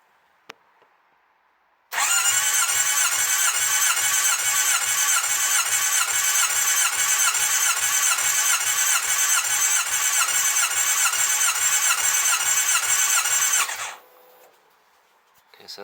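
A Honda CB650R motorcycle engine cranks on the starter for about twelve seconds during a compression test, a loud steady whirring drone with rhythmic pulses, starting abruptly and cutting off.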